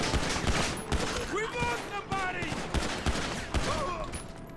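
Rapid gunshots from a small, fast-firing weapon in the video game GTA 5 survival mode, a burst of sharp cracks repeating every half second or so over a steady background of in-game noise.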